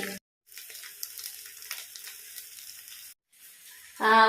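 Fish sizzles in a hot pan, a close crackling hiss that twice drops briefly to silence, with a louder burst of sound at the end.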